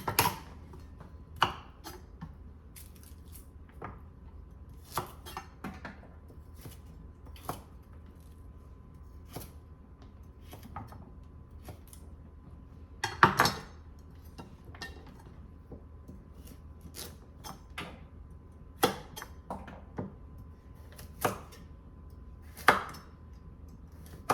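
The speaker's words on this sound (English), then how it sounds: "I like cutting my carrots at an angle." Carrots sliced at an angle with a knife on a cutting board, scattered sharp taps and clicks spaced a second or two apart over a quiet background, with no speech.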